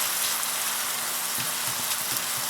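SPAM frying and rendering in a pan, a constant close hiss of sizzling fat with occasional small pops and crackles, steady in level and free of speech.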